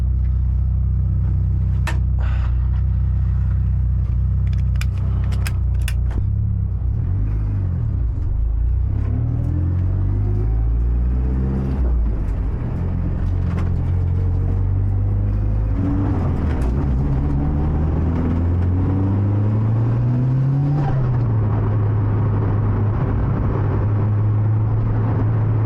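A Mitsubishi Evo V, Supra and 350Z with RB engine drive along mountain roads, heard from inside as a continuous engine rumble with repeated rising and falling revs through gear changes.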